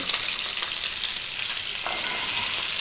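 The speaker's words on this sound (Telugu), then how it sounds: "ఇప్పుడు పోపు దినుసులు వేసుకొని కొంచెం ఫ్రై అయినాక బాయిల్ చేసుకున్న గోకరకాయ ఇందులో వేసుకోవాలి" Tempering spices and boiled cluster beans fry in hot oil in a pan, making a loud, dense, unbroken sizzle up close.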